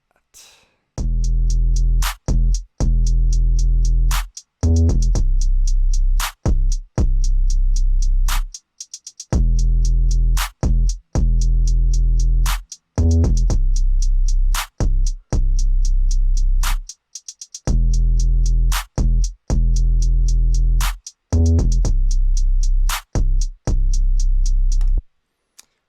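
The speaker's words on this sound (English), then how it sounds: "That extra little distortion just makes the kick stand out, makes it be clear in the mix" Heavy 808 kicks with soft-clip distortion boom in a rhythmic pattern, each hit sustaining a thick low tone before cutting off to silence.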